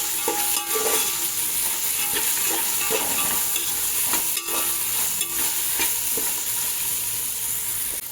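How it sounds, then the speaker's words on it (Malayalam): Chopped vegetables and green peas sizzle in a pan for a soybean pulao while being stirred, a steady close frying hiss punctuated by regular scraping and tapping strokes of the spoon, with no talking. "ഇനി നമ്മൾ നല്ലപോലെ ഇളക്കി കൊടുക്കാം കേട്ടോ."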